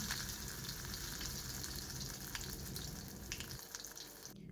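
Small batches of iftar food frying quickly in a pan, giving a steady close sizzle with watery hiss and faint clatter throughout, easing slightly near the end.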